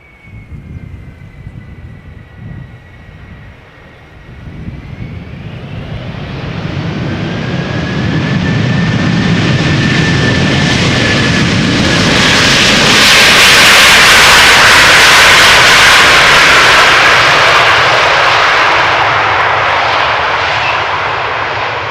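A Delta Airlines jet airliner, 19 years old, arrives at Schiphol Airport in the Netherlands on a rainy day. Its engine roar builds from a distant whine to a loud, close rumble that peaks and then lingers, and no one speaks.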